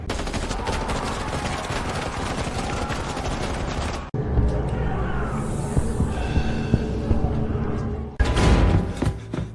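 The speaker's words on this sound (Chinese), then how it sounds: "开火，把他们逼退！" Gunfire in an animated battle scene comes as dense, rapid bursts of shots over a low hum, then breaks into separate loud volleys.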